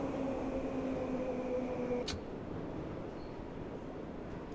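A 1972 Tube Stock train in Train Sim World 4 arrives on the Bakerloo Line: a steady loud rumble with tonal motor whine that fades away, a brief click near the middle, then a lower continuous hum.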